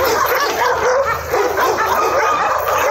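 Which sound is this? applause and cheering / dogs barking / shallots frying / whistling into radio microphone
dogs barking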